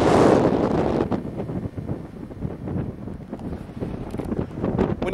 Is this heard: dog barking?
no